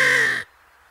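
A single loud, close crow caw cuts off abruptly after about half a second, leaving quiet outdoor background during a crow hunt over decoys and bait.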